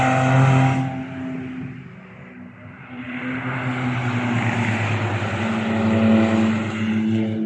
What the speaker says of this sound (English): There's the Evora and the Emira. Wow, they sound so good.